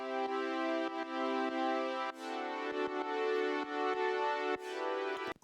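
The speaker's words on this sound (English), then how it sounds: "And there's some keys and they sound like this." Synth keys from the drop of an electronic remix, bright sustained chords playing alone in a rhythmic pattern with clear repeated attacks and short gaps, ending with a quick cutoff.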